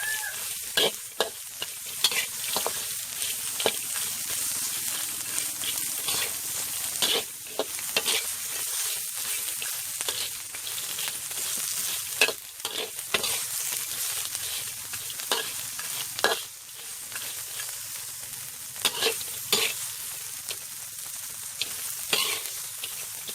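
Sugarcane beetles frying with fish sauce and a little oil in a pan, a continuous sizzle broken by frequent sharp scrapes and clacks of stirring throughout.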